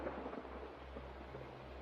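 Low, distant thunder rumbles in a storm beneath a steady hiss of rain, faint and continuous.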